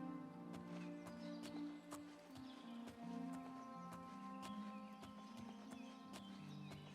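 Horse hooves clip-clop in an Old West video game alongside a whinny, set against a layer of sustained tonal game music, the hoofbeats sounding as quiet, irregular knocks.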